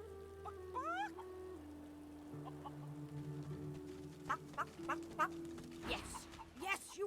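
Chickens in a coop in the video game Divinity Original Sin II give soft clucks and short chirpy calls over a steady low ambient game drone, with scattered clucks bunching toward the end.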